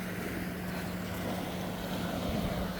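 Ocean waves washing onto a sandy beach, a steady broad rush of surf with wind noise on the microphone, moderately distant and continuous, no voices.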